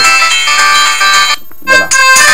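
Loudest ringtone setting of a Clap Luxe 2 senior telephone, a very loud bright electronic melody ringing alone, with a short break before the tone resumes.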